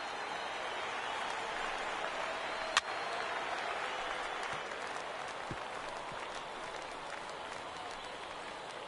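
A stadium crowd in MLB The Show 19 roars in a steady, moderately distant wash of cheering and applause, broken once by a sharp bat crack.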